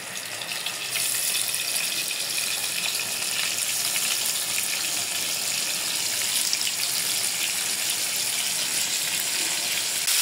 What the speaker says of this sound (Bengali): আমার তেলটা গরম হয়ে গেছে, মাছ দিয়ে দেবো